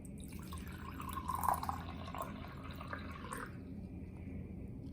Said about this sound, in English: And now you're going to pour that into your water bottle.